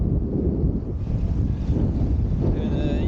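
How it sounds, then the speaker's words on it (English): Strong gust of wind roars across the microphone while wing foiling on a bay, a steady loud rush with water noise beneath and a faint whistling tone near the end. "Here comes a really good gust"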